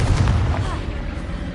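A Confringo blasting spell from the Hogwarts Legacy video game goes off as a dense, rumbling low boom that rolls on through the whole short burst, loud and close, with some spell-casting voice mixed in.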